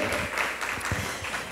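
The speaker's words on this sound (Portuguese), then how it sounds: "uma salva de palmas para o Senhor" A church congregation claps and cheers in praise during a worship service, a short burst of steady, dense applause filling the room.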